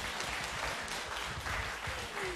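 Audience applause fills a Korean esports venue after a Proleague winner's interview, a dense, steady wash of clapping from a crowd.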